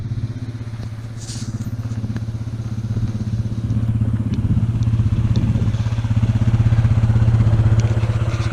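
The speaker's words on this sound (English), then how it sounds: "I got this ATV, and I got a plow on it." A 2006 Suzuki Vinson 4x4 500 ATV fitted with a snow plow idles nearby with a steady, low, throbbing engine note and light clatter, running continuously and alone, with no talking.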